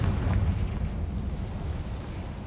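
A Confringo fire spell blasts in Hogwarts Legacy, a continuous heavy, low rumbling boom that stays loud and dense for the whole stretch with no talking over it.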